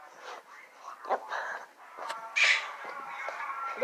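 A pet bird gives harsh, crow-like cawing calls, several irregular squawks and rasps close by against a quiet room.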